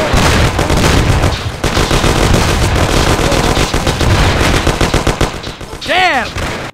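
Dense, loud gunfire erupts in the 1930s gangster video game Mafia: The City of Lost Heaven, with rapid bursts and single shots piling up close by amid ambush chaos, ending with a brief whooshing sweep.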